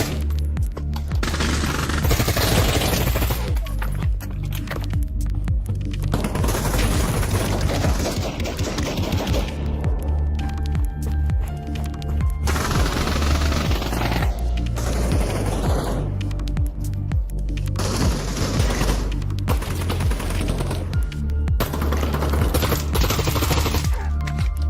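Bursts of rapid automatic gunfire in modded Skyrim VR, loud and dense, coming in clusters of rattling shots separated by short breaks.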